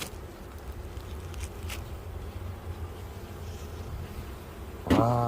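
Bees buzz around a beehive in a steady, close drone with faint ticks and patters, and a brief sharp noise sounds right at the end.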